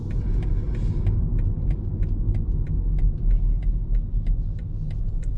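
A 2020 BMW 118i with a three-cylinder engine drones steadily while driving, a deep continuous rumble heard from inside the car with faint ticking clicks over it.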